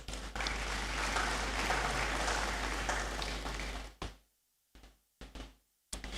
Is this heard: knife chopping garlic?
no